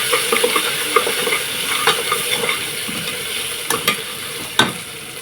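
Coarsely ground paste browning with onions in a pressure cooker, a steady close sizzle with scattered scraping stirs and a few sharp utensil knocks, no talk.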